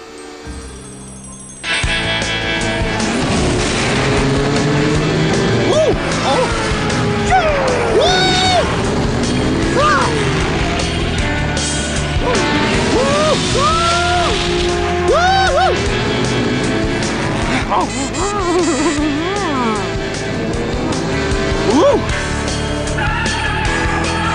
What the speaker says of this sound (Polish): Max i Tintop urządzili sobie wyścig.